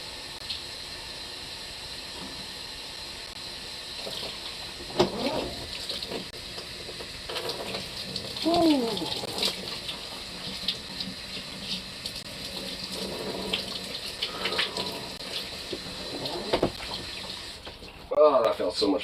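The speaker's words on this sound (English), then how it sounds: "Cold water will help too. I'm putting that all over my head." Cold water runs steadily from a tap and splashes over someone's head, a continuous hiss with uneven bursts of spatter. A few vocal sounds rise and fall through the stream.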